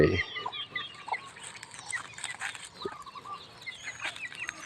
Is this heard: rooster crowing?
yes